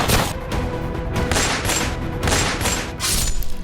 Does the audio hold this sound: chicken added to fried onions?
no